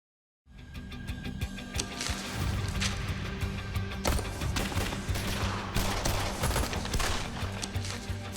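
Handgun shots fired on an outdoor target range, heard as a dense, steady run of cracking reports over a constant noisy background, with no talk.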